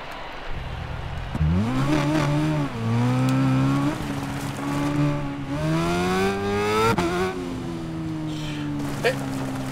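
A motorbike engine in the Ride 5 racing video game revs and drones with rising and falling pitch as the bike accelerates and shifts, steady and prominent throughout, while someone talks over it.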